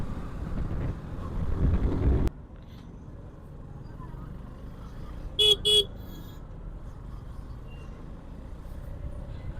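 Night road traffic heard from a motorbike on the Khopoli route: a rush of engine and wind noise cuts off abruptly, leaving a quieter low rumble, then a car horn gives two short toots close by.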